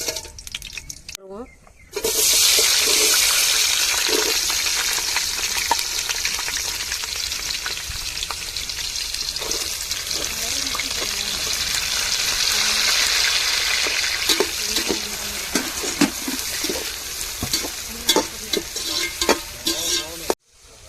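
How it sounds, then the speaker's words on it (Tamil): Cardamom, cloves and cinnamon hit hot ghee for a fish biryani, setting off a loud, steady sizzle and frying crackle after a short pause, with stirring clicks and scrapes scattered through it. "இப்போ ஏலக்காய் கிராம்பு கருங்கப்பட்டை சேர்த்துக்கிடுவோம்"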